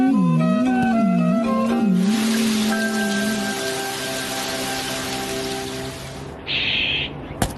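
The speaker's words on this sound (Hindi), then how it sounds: "अरे वाह, बारिश भी रुक गई।" Cartoon rain from the Shinchan animated series falls as a steady, even hiss, opening under sustained musical tones and wavering whistles before continuing alone with a brief brighter burst near the end.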